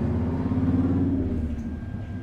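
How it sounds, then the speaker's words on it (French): A Harley-Davidson motorcycle rumbles past, its low engine note steady and fairly loud before easing off slightly toward the end. "Prends une petite pause Harley Davidson là."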